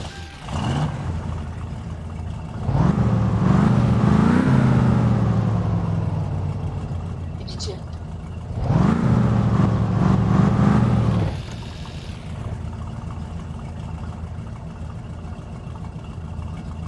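A car engine, one that runs on gas, revs up twice in strong, rising surges, each settling back to a steady idle hum. Loud and close, with no talk over it.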